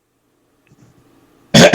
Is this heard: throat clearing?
yes